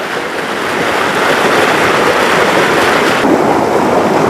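Calm flowing water near Khuna village in Samahni, a steady broad rush of moving water, close and fairly loud, swelling slightly after the start and holding even throughout with no talking.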